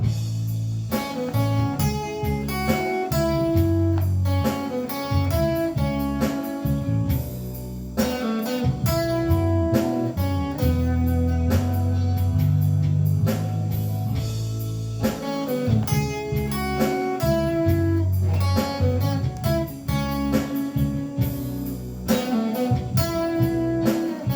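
A guitar strums and picks the full chorus of a song in a steady rhythm, busy and loud, with bass notes underneath and no talking.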